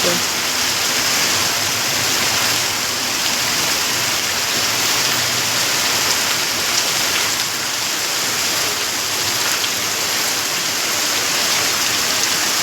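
Heavy rain pours down in a steady, loud, unbroken hiss that stays dense and constant from start to finish, with no talk heard.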